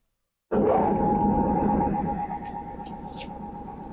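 A power saw cutting a PVC window impost profile starts abruptly and cuts steadily with a loud sustained whine and grinding, easing slightly as the cut continues.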